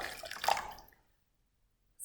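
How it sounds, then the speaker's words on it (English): Water pours briefly into a measuring cup for play dough, a short close splash lasting under a second, followed by near silence. "So I need to measure it out and only pour 1 cup."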